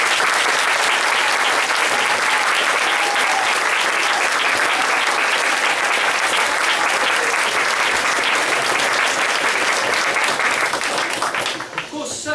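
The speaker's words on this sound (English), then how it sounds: "So can we just give them one more huge round of applause," A large audience at a school musical gives a loud, sustained round of applause, thick, continuous clapping and some crowd noise lasting over ten seconds before it begins to thin out at the very end.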